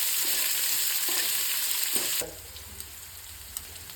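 Chopped onion sizzles loudly in a hot pan for about two seconds with occasional stirring scrapes, then the frying noise drops sharply to a quiet low hum with faint clicks.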